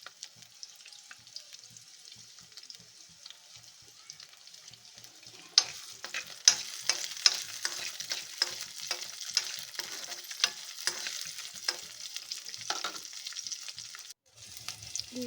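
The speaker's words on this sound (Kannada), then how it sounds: "ಅರ್ಧ ಟೇಬಲ್ ಸ್ಪೂನಷ್ಟು ಎಣ್ಣೆ ಹಾಕಿ, ಈರುಳ್ಳಿ ಹಾಕಿ, ಬೆಳ್ಳುಳ್ಳಿ ಹಾಕಿ ಫ್ರೈ ಮಾಡಬೇಕು." Onion and garlic in half a tablespoon of oil; after a quiet stretch, a bright crackling sizzle starts and carries on, with rhythmic stirring taps against the pan.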